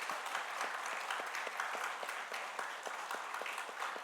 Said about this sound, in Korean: 예, 박수 한번 쳐드립니다.